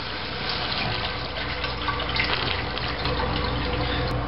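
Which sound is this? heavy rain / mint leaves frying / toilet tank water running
toilet tank water running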